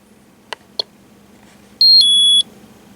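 A transistor tester testing a diode gives a short two-tone electronic beep, clear and close, after two soft clicks in an otherwise quiet room.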